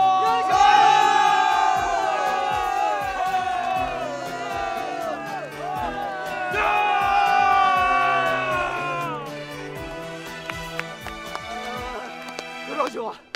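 A crowd cheers and shouts for the heroes in a palace setting, with loud, sustained voices rising and falling in waves. Scattered clapping and clattering run throughout.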